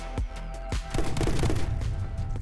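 Gunfire in the video game My Friend Pedro: two sharp shots ring out, followed by a rapid burst of overlapping shots and impacts, loud and up close.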